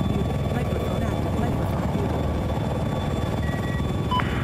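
Helicopter rotor thrum from the video game Battlefield 4, a steady loud chopping drone filling the whole stretch with faint game tones on top and no speech.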